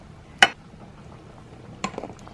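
Eggs go into a pot for a shrimp boil, two sharp knocks against the pot heard about a second and a half apart, fairly close, with quiet room noise between them.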